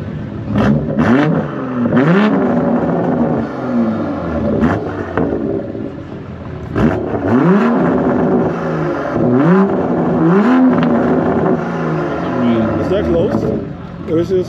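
A Ferrari engine revs repeatedly at a cars and coffee meet, loud and close, with rising and falling bursts under steady conversation nearby.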